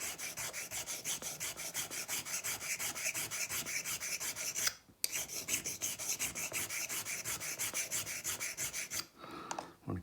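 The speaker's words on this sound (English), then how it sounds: "It's a standard India stone we're using right now." An India sharpening stone rasps steadily across a 1911 pistol slide in fast, even back-and-forth strokes that are close and loud, with one brief pause midway and a short break near the end.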